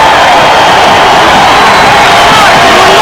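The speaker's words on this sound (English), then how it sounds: "And the crowd comes alive." A basketball arena crowd roars and cheers loudly and continuously, a dense wash of shouting and whooping voices with no break.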